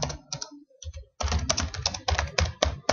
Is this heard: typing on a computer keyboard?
yes